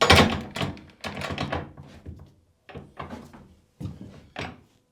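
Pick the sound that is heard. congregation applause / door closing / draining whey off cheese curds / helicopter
door closing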